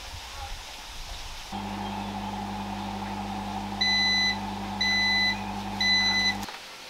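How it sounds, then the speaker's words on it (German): A food dehydrator making beef jerky hums steadily while its timer gives three short, evenly spaced beeps after 8 hours, then the hum stops abruptly. "So, der Timer ist abgelaufen, 8 Stunden sind rum"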